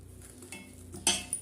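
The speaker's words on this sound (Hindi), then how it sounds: "आप चाहे तो हाथ से भी फेंट सकते हैं या फिर चम्मच की सहायता से भी इसको फेंट सकते हैं।" Spoon beating aloo pakora batter in a bowl, heard as soft scraping with a couple of sharper clinks of metal against the bowl near the end, close and fairly quiet, with no talking.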